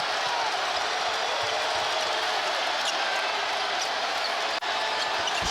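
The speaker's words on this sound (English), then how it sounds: "Again, the sellout crowd is on their feet." A sellout arena crowd on its feet at an NBA game between the San Antonio Spurs and Boston Celtics, a dense sustained roar of cheering that stays loud and unbroken throughout.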